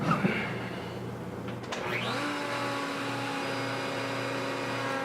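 A table-mounted wood router rounds over the top edges of a wooden cutting board, its motor starting up and settling into a steady high whine that runs loud and continuous with no voices.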